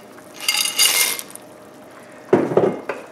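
Dry wagon wheel pasta tumbles into a pot of Italian beef soup, giving a brief rattling patter followed by a few clattering hits against the pot, close and fairly loud.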